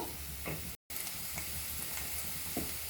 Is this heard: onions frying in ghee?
yes